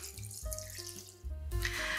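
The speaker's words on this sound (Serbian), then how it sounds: "Jednu litru i 300 ml mleka sipamo u veću šerpu i stavljamo na vatru." Milk pours steadily into a large pot, a continuous splashing fill with a ringing tone that rises as the level climbs, with no talking.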